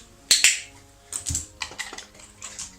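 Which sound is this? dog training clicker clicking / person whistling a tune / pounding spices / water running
dog training clicker clicking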